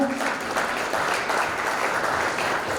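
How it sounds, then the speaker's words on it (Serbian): Audience at an education gala applauding, a dense, steady wash of clapping from many hands that holds at an even level throughout. "Veliki aplauz za našu Nikola."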